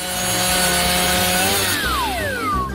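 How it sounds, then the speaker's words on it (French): A saw grinds loudly and continuously through frozen waffles, a harsh rasping drone with whining tones that slide downward near the end. "Maintenant, je vais couper ces gaufres."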